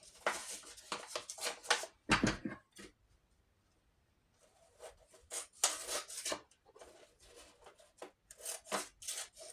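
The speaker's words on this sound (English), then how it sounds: "cut a piece with my scissors." Scissors snip through a sheet of paper at close range, a few short rasping cuts with brief quiet gaps between them, set against quiet room tone.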